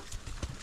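A horse's hooves clip-clop in a few uneven, muffled thuds on a foggy morning while cattle are pushed, close by and fairly soft over a noisy outdoor background.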